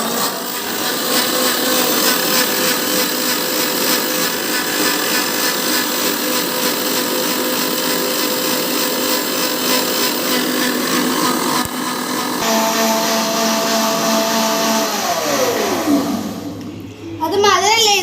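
A kitchen blender or mixer whirs steadily and loudly throughout. Its pitch shifts partway, and it winds down near the end.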